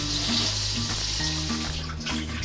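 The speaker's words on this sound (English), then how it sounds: "Just making sure to wash all the leaves." Cilantro leaves are washed under a running kitchen tap. Loud, steady water gushes into the sink close up, and the flow shifts slightly as the leaves are moved through the stream.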